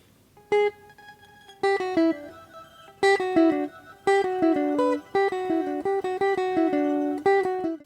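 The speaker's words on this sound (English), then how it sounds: "we have another plugin here called the Soundhack Bubbler, which is creating all these glittering small pitched grains" A guitar passes through the Soundhack Bubbler granular plugin, producing bursts of bright, glittering pitched grains in choppy, stuttering phrases with brief silences between.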